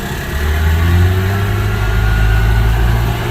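Two-stroke van engine pulling away in unsynchronized first gear, a loud close buzzing drone that rises slightly and holds steady.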